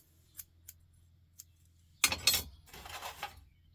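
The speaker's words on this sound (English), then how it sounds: "We have scissors." A few faint light clicks, then a brief burst of metallic rattling and snipping close by, followed by a softer clatter of handling.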